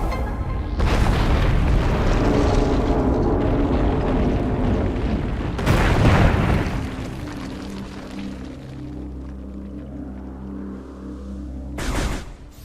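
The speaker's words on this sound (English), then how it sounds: "Then you fire a missile at those orange things." Missile blasts in Metroid Prime Remastered, destroying orange blocks: a loud booming explosion opens, a second heavy blast follows midway, then a humming lull and a final short burst near the end.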